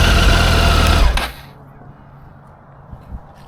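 A Triumph Tiger 800 motorcycle engine is revved hard with the throttle, a loud, close buzzing roar for about a second before dropping off to a quiet low idle.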